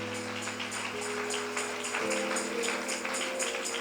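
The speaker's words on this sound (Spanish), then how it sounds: "Puede aplaudir fuerte al Señor." A church congregation applauds loudly during a sermon, a dense, steady patter of clapping that lasts throughout, with sustained musical tones held underneath.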